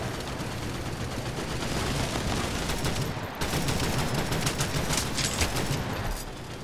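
Rapid sustained gunfire from the World War Heroes video game, a dense, loud, continuous barrage of automatic shots and bursts with no break, and no talking.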